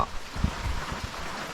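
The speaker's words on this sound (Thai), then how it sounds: "ฝนตก" Light rain patters steadily on a leaky shelter roof at a night fishing camp in the forest, a soft continuous hiss with scattered drops close by.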